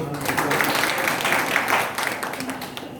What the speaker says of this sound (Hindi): कृपया ताली तो बजती है।